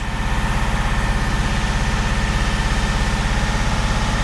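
A newly built engine holds a steady 2,000 rpm during cam run-in, a loud, even, pulsing drone close by with no talking.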